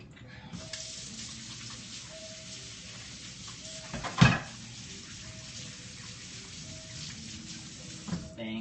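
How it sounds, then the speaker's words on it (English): Running tap water pours steadily into a sink while hands are washed, a continuous close splashing hiss with one brief louder splash midway and faint background sounds. "let me wash my hands real quick."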